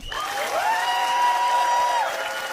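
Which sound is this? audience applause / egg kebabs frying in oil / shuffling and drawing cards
audience applause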